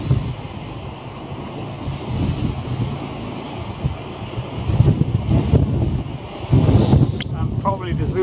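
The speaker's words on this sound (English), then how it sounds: "Here goes the wind again." Wind buffets a camera microphone in gusts, a rumbling low roar that swells louder near the middle and again toward the end, with faint clicks near the close.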